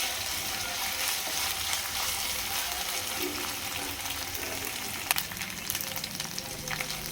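Ginger-garlic paste fries in a pan for a gongura prawn dish, giving a steady close sizzle and hiss that runs throughout, with a couple of sharp clicks near the end and no voices.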